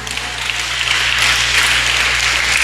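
Sustained applause from a church congregation at a Filipino worship service, a steady wash of many hands clapping together at moderate loudness with no voices over it.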